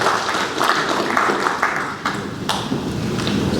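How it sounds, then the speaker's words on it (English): Audience applause for a university Vice-Chancellor at a valedictory event, a dense steady wash of many hands clapping at close range, holding level for a few seconds with scattered sharper claps poking through. "And I think this is something that deserves an applause for the Vice-Chancellor"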